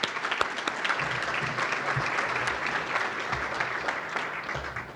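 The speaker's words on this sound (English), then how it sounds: "Big round of applause for Kiwanians." An audience at a city State of the City address applauds the Kiwanians, a dense, steady wash of many hands clapping that holds evenly for several seconds, moderately distant in a large hall.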